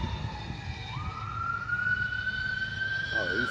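A siren at a large fire in Moreno Valley beside a dispensary, rising into a steady, loud wail over a low engine rumble, with a brief warbling pulse at the end.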